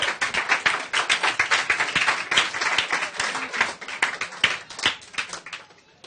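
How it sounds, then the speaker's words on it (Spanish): A class at a church discipleship lesson claps for the Lord, a dense patter of handclaps with some sharper individual claps standing out, moderately loud and steady for several seconds before thinning slightly. "Dale un aplauso al Señor, claro que sí."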